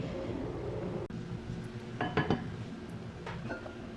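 A lid set onto a pot of boiling potatoes: a few light metallic clinks and clatters midway, over a low steady simmering hum in a quiet kitchen.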